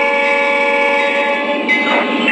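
Lionel CSX SD40-2 model diesel locomotive pulling away, a loud steady electronic horn-like drone with humming motor tones, close and continuous.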